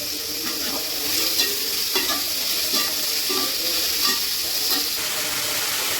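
Onions fry in hot oil with salt, a steady close sizzle broken by light, irregular stirring scrapes throughout.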